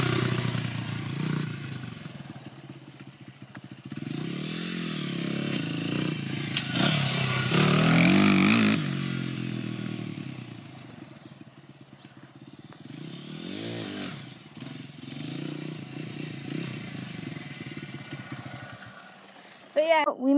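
Pit bike engine revving on a track, rising and falling through several loud bursts over steady running, with speech heard over the engine.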